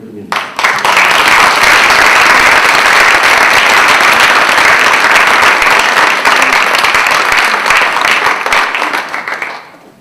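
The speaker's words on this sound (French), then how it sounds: "Je pense que vous pouvez l'applaudir." Sustained audience applause at a press conference for Les Rencontres d'Arles 2014, a dense, loud wave of clapping that rises quickly, holds steady for about nine seconds and tapers at the end.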